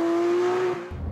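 A Porsche 911 GT3 with a 4-liter six-cylinder engine gives a brief, loud, high-pitched engine note that holds steady, then fades as a deeper rumble takes over.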